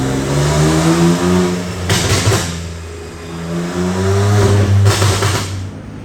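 2020 BMW M2 Competition with a custom tune revving on a dyno, loud sustained engine drones rising and falling with bursts of exhaust crackle between pulls.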